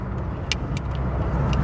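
A 1992 Rover Metro 1.1S drives along, its steady road and engine rumble filling the cabin, with a few faint light clicks and no talking.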